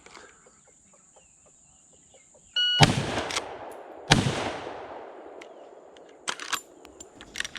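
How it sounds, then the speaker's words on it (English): Two sharp, loud rifle shots about a second and a half apart come from a Marlin 336 lever-action carbine in 30-30 Win fired outdoors at a log. Each shot has a ringing decay, and faint bird calls are heard before the first one. "gonna try 2 shots on that log as quick as I can"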